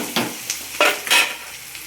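Food stirred in a frying pan as ingredients brown, several brisk scraping strokes over a soft steady sizzle, close and clear with no voices.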